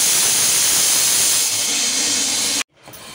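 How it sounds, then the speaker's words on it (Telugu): A mixer grinder blends salt, pani puri masala and chaat masala in a mixie jar. A loud, steady roaring whir fills the room, then cuts off abruptly near the end, leaving faint room noise. "ఇవన్నీ మెత్తగా గ్రైండ్ చేసుకోవాలి"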